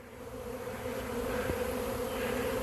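A huge swarm of honey bees buzzes in a dense, continuous drone outdoors, many wingbeats layered into a steady hum with one brief louder bee passing close.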